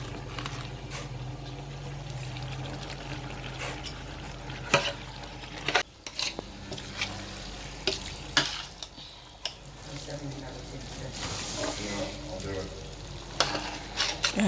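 Cabbage frying in a pot for cabbage tomato sauce, stirred steadily with a utensil: a continuous close sizzle under repeated scraping strokes and occasional sharp clinks against the pot, with no talking.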